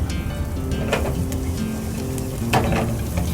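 Onion and garlic fry in olive oil for a beef and mushroom stroganoff, a steady close sizzle with occasional utensil scrapes and stirring taps running throughout.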